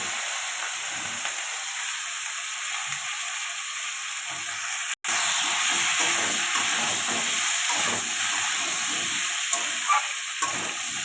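Taro and potato pieces fry in oil with panch phoron tempering, a steady loud sizzle and hiss that runs the whole time, broken by one sharp click partway through.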